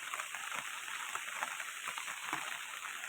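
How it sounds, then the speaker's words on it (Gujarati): Heavy rain pours steadily in Rajula, a dense, even hiss of countless drops with faint patters, unbroken and without any voices. "રાજુલામાં કાલ રાતથી વરસાદ ધોમ ચાલુ છે"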